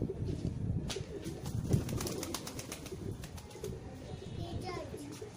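Pigeons coo and rustle nearby, with a few sharp flutters. Voices, including a child's, talk softly in the background.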